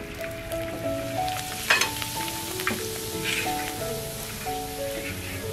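Coix seeds (Job's tears) frying in hot oil in a wok give a steady, close crackling sizzle throughout, with a few brief louder pops and some low music underneath.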